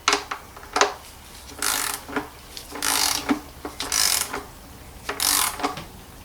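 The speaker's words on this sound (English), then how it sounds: "I'm now going to refit my sump plug here" A ratchet wrench tightens the sump plug under a 2012 Mercedes C220 CDI, a series of bursts of rapid clicking, each a second or so long, separated by short pauses, close and crisp.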